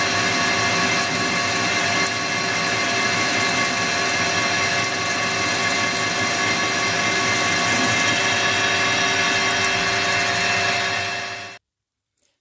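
A steady, loud mechanical whir of a metal lathe running continuously, with a broad droning hum and high whine, stopping abruptly near the end.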